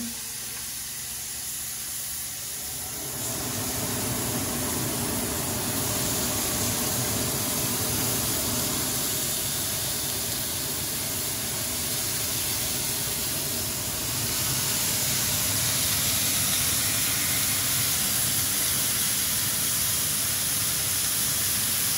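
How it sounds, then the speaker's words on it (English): Shrimp sear on a very hot pan with a steady, loud sizzle that starts after a quiet moment and grows denser and brighter, with a kitchen fan running beneath. "Okay, so over here I have this pan. It's very, very hot. And I'm just gonna lay these shrimp down"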